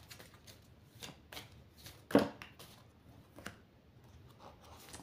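A deck of playing cards is cut by hand during a card reading, giving a few soft riffling and slapping sounds at close range, with one sharper snap midway through and no speech.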